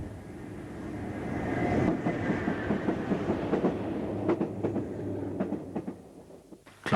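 A South African electric train, hauled by paired Class 14E dual-voltage locomotives on the Blue Train service, rumbles steadily along the rails with a broad continuous roar and scattered clicks and rattles from the wheels.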